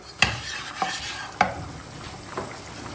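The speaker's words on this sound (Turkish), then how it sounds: "Un yağın içinde kaybolacak. Çok rahat bir şekilde karıştırılacak." Flour being stirred into hot oil for a roux in a Turkish eggplant dish, a soft steady sizzle with a few sharp spoon taps and scrapes against the pot, close and moderately quiet, no talking.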